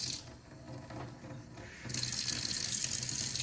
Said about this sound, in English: so I'm gonna cut some water on